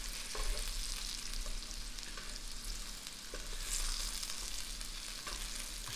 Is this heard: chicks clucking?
no